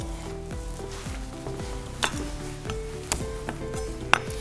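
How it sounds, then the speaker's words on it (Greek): Onion sizzling in a hot frying pan, a loud steady frying hiss with occasional sharp clinks of a utensil against the pan. "ρίχνω το κρεμμύδι μου μέσα στο τηγάνι"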